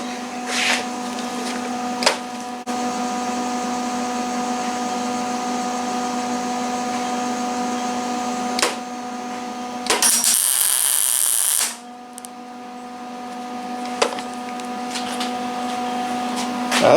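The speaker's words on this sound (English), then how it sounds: "So I'm going to put a little tack weld right there where you see it's shiny" Tack weld on the pickup tube of a Melling M155 oil pump for a Chevy 5.7 L V8: a steady welder hum, broken once by a short, harsh, crackling weld burst lasting under two seconds, up close.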